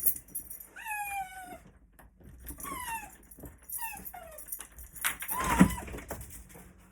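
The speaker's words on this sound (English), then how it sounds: "What are you barking about?" A dog whines and yelps in several high, drawn-out cries with pauses between them, fairly close, followed by a brief louder rustle.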